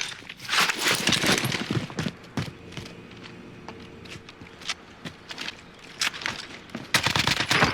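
Shooter video game gunfire rattles in close bursts and single sharp shots, with rapid automatic volleys at the start and end and pauses between them.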